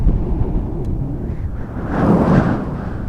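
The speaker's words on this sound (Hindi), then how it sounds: "फिर अचानक तूफान शुरू हो गई" A stormy rumble of wind and thunder sets the scene in a Hindi story as a sudden storm hits. It rolls on steadily for a few seconds, loud and low, and swells toward the end with no voices.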